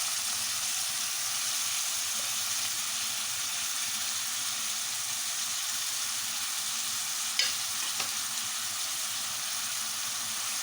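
Tomatoes and peppers frying in a heated pan for Moroccan taktouka, giving a steady, close, even sizzle and hiss throughout with a couple of small clinks near the end.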